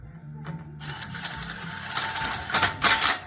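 A bolt being tightened through the hinges of a Short Go sander: close, quick metallic ratcheting clicks and scraping in short bursts that grow louder toward the end, with no one talking.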